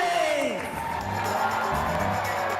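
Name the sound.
crowd cheering at Jerry Demings' governor campaign rally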